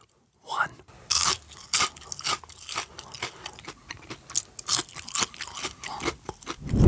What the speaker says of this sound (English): world's crunchiest fries, crunch test in 3